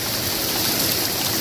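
Heavy monsoon rain pours down without a break in a dense, loud, even hiss, with no thunder or wind, over the Aravalli range near Marwar Junction in Pali district.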